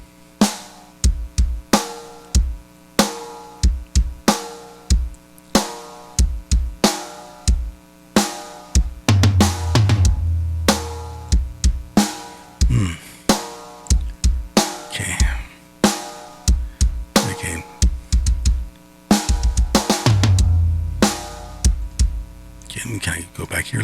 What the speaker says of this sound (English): So when you hear the drums, it's going to sound something like this.